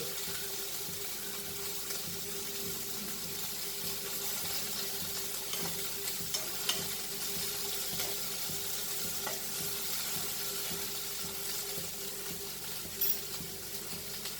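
Prawns fry in oil for Goan prawn balchao, a constant moderate sizzle with occasional stirring clicks, steady and uninterrupted throughout.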